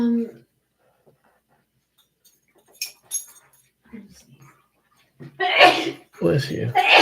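A single sharp sneeze bursts out near the end, following quiet moments with faint rustles and soft speech in a room.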